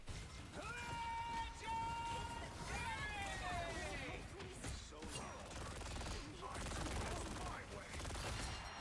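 Rapid gunfire and bursts of automatic fire from a Marvel Rivals match on PC, densely layered with game effects and crowd-like babble, loud and continuous with sweeping whooshes and impacts throughout.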